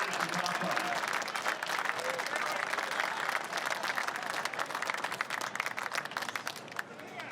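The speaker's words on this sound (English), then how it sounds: "the round of applause from down below" Dense, continuous applause and crowd noise rise from spectators below the Bathurst 12 Hour motor race podium, loud and sustained, with an announcer's voice talking over it early on before it thins slightly near the end.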